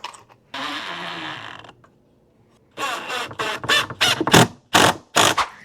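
A power drill drives screws into an oak board: one long whirring run, a pause, then a series of short, loud bursts as the screws seat.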